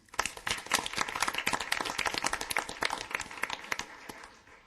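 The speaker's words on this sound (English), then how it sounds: "let's give them a round of applause" Audience applause at a regular city council meeting: a brisk run of distinct hand claps from a modest crowd, dense and even, tapering off toward the end.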